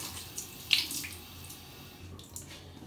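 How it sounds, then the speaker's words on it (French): Water runs from a tap while hair is rinsed, a soft, steady splashing flow with a few faint knocks and clicks, fairly quiet and with no talking. "ça y est, j'ai rincé mes cheveux."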